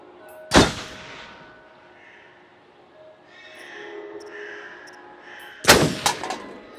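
Two loud, sharp gunshots boom several seconds apart at a shooting range in the video game Until Dawn, with quiet ambient game sound between them.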